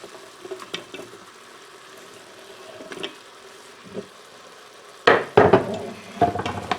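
Onion and celery sauté in an Instant Pot during chicken chow mein prep, a faint low sizzle with scattered stirring clatters, then louder scraping and knocks near the end.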